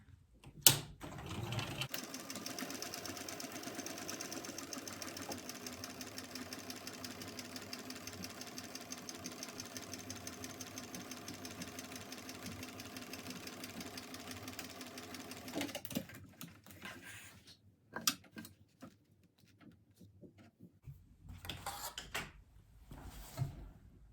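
A sewing machine runs a second seam along a crossbody bag in one steady stitching burst of about fourteen seconds, followed by a few clicks and handling noises as the stitching stops.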